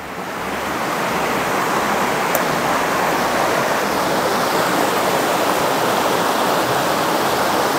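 Water of a rocky river rushing steadily over stones near a chain of waterfalls in Tejutepeque, Cabañas, El Salvador, a loud broadband roar that holds constant throughout with no voices.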